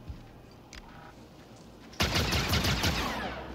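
Rapid gunfire from a newly picked-up weapon in the video game Star Wars Outlaws, a sudden loud sustained burst of shots starting partway through after a quiet stretch.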